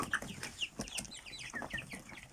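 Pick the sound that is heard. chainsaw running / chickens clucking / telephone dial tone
chickens clucking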